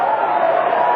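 A stadium crowd of about 33,000 roars at an AFL match between Melbourne and Fremantle at Subiaco, a steady, loud, continuous wash of crowd noise throughout the brief moment.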